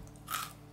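A single loud crunch as a very hard, savory meat-flavored snack is bitten between the back molars, heard up close and alone.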